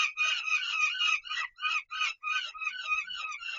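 Bird calls repeat in quick, dense bursts, then break into separate shorter calls with brief pauses, the last ones ending on a hooting note; close and fairly loud.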